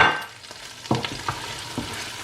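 Curry powder, allspice and nutmeg stirred together in a pan for a red snapper stew, with a few distinct scraping strokes at a slow, uneven rhythm over a faint sizzle, close and fairly quiet.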